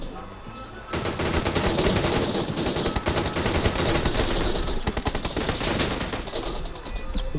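Rapid automatic gunfire in the mobile battle royale game PUBG New State, loud bursts of shots firing in quick succession after a brief quieter start, continuing almost nonstop with short gaps.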